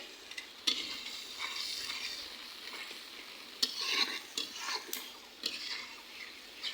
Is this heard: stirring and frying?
yes